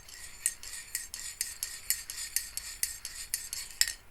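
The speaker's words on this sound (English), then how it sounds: "Where's my spoon? So that I can give it a little stir." A metal spoon stirs coffee in a cup, clinking against the sides in a steady, regular rhythm of light taps, close and clear with no talking.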